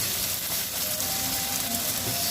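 Peppers cook in a curry pan for chicken rogan josh over medium-high heat, producing an even, close sizzle with a soft hiss that holds steady throughout.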